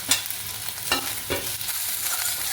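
Whole cumin seeds, cardamom pods, cloves and dried red chillies frying in hot oil, a steady broad sizzle with a few sharp spatula scrapes and clinks, close and moderately loud, no voices.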